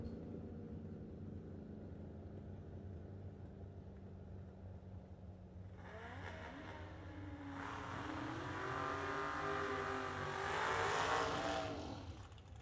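Drag race cars, including a Pontiac Ventura, launch at a New Year Nationals event: engines rev up and roar with a rising, rumbling pitch, swelling loud in the latter half over steady background crowd noise.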